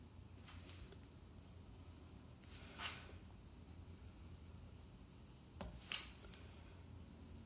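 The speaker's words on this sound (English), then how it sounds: "And now I can draw my cut line." A pencil draws a cut line on paper for a two-point perspective drawing, giving a couple of brief, soft scratchy strokes over a quiet background hiss.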